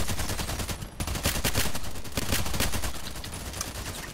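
Rapid, loud SVU-AS rifle gunshots in the shooter game Contract Wars, a dense burst of sharp cracks filling the whole stretch with no talk.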